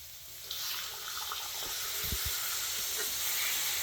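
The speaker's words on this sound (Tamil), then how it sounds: "கொஞ்சம் தண்ணி சேர்த்துக்கிறாங்க" A hissing, steaming rush as water hits a hot pan of egg ghee roast masala, swelling and sustained for several seconds with faint bubbling underneath.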